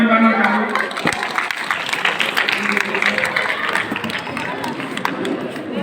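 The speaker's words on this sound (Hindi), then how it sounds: "उनके लिए तालियां बजाना चाहूँगा।" Applause for a speaker at a school gathering in India, a dense patter of many hands clapping from a crowd, steady and loud across the whole stretch, with some voices mixed in.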